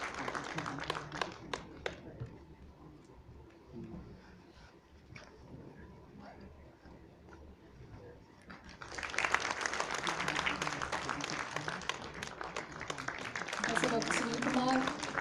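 An audience applauds at a Tuberculosis Day 2021 felicitation ceremony. Lighter clapping under a speaker's voice swells into louder, sustained applause partway through, while talk carries on over it.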